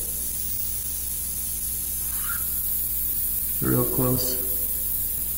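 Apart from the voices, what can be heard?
airbrush spraying paint on a mural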